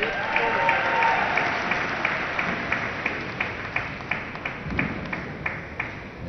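A crowd applauds at an Olympic men's table tennis preliminary match at London 2012. The clapping is broad and sustained and fades into scattered claps, with a commentator talking over it.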